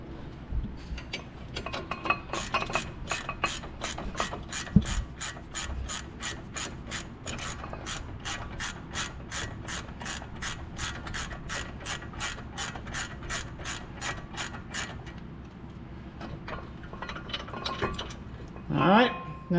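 Ratchet clicking rapidly and steadily while loosening brake caliper bracket bolts on a 2017 Ford Fusion front brake, a long run of close, evenly spaced clicks with a short pause and scrape near the end.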